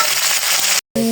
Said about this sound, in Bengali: এখন আলুগুলো ভেজে নেব। একটু হলুদ দিয়ে দিলাম। এখন একটু ভেজে নেব।